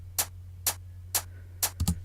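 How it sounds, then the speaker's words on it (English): A single hi-hat slice triggered from a loop in a sampler plays four crisp, evenly spaced hits and then a quick double, each short and bright over a low steady hum. "I'm using a loop inside a simpler, and what I've done is I've selected the slice mode of the simpler and selected only this particular hi-hat to play"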